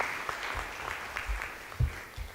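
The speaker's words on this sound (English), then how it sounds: "Maybe we can a round of applause for them." Audience applause at a corporate annual day event, a short patter of claps heard at moderate volume with some low thumps mixed in.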